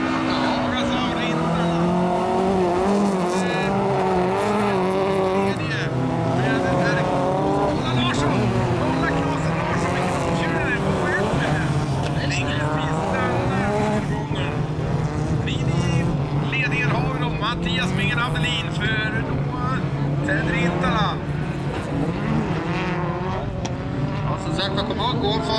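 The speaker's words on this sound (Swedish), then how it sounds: "Miggen Andelin ut på sista varvet i sin bakalitratt i Volvo tror han hade" Folkrace cars, one of them a Volvo, race during a Gotland festival heat, their engines droning steadily and shifting pitch as they pass, with a commentator talking continuously over the noise.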